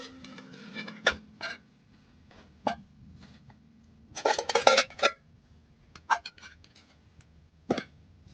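Metal pots and pans clink and knock as they are set onto a wooden shelf at a wilderness survival shelter, several separate clattering contacts spread irregularly, fairly close and moderately loud with quiet pauses between.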